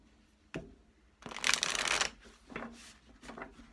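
Tarot cards are shuffled in short bursts, with a quick riffle followed by softer, fainter shuffles. The sound is close and quiet, and no one speaks.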